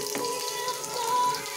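Garlic frying in a pan for ginataang kamansi, a steady broadband sizzle with faint watery hiss running through the whole short stretch, no voices.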